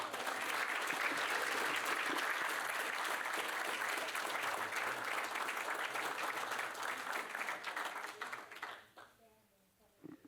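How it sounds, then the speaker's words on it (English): Steady audience applause at a board of directors meeting, many hands clapping for several seconds, then tapering off and fading near the end. "Let's give them one more round of applause."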